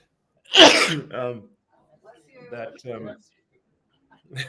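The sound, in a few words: sneeze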